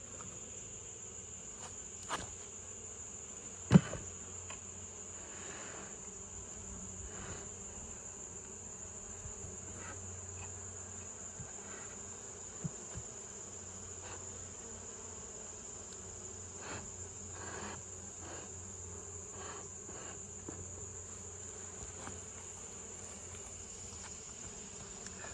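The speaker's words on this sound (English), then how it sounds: "there's so many bees flying around" Bees buzz around a beehive in a soft, continuous insect drone, with a few faint knocks and rustles close by.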